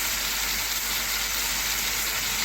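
Chicken liver frying in a pan with light soy sauce just added, a loud, steady, close-up sizzle with hissing steam that continues evenly without pause.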